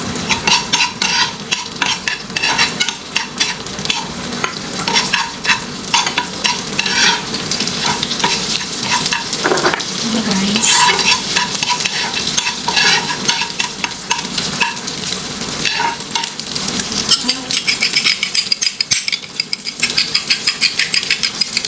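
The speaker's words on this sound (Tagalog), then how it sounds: "I-stir lang natin ng konti para lang mag-mix, mix, mix, mix, mag-nikos-nikos na siya." Meat and garlic sizzling loudly in a frying pan while being stirred, with a steady crackle broken by frequent scraping and clinking of the utensil across the pan for the whole stretch.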